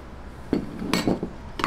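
A utensil clinks against a bowl several times, each tap short and close, while flour, sugar and milk powder are mixed. The clinks are spaced irregularly over quiet background.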